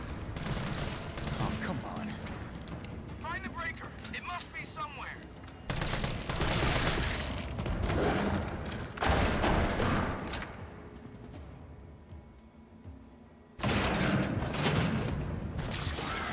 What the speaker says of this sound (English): I work better with the assault rifle.